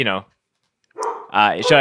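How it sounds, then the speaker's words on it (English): A dog barks close by in a few short yaps, mixed in with people talking nearby. "And that's Marty, the one who's barking."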